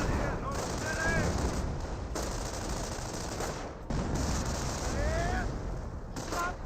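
Battle in Company of Heroes with an artillery barrage: continuous rumbling explosions and rattling gunfire fill the scene at steady loudness, while a voice talks over the combat.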